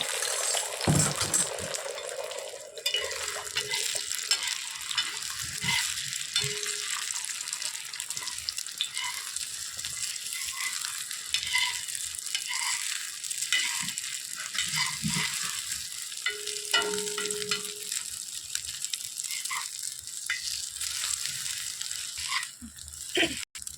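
Egg mixed with crushed Lay's potato chips fries in hot oil in a pan, a steady hiss and crackle running throughout with scattered scraping stir strokes and a few faint clinks.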